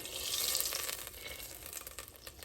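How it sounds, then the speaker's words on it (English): Butter melting in a soup pot gives a steady, soft sizzle with a fine crackle, close and fairly quiet, and no one speaks over it. "So now we're melting the butter."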